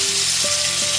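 Kachki fish mixture hits hot oil after bay leaf has been fried, giving a steady, close hiss of frying that holds evenly throughout with no voices.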